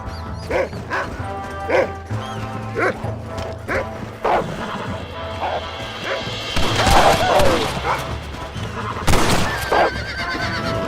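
Horse whinnies and neighs ring out amid a chaotic Red Dead Redemption 2 soundtrack, mixed with barking and crashing impacts, loud and busy throughout.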